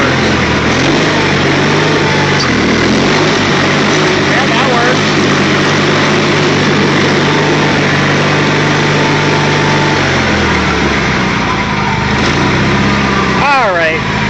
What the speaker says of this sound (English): 1984, I think, Craftsman III, 20 horsepower Onan twin lawn tractor, trash find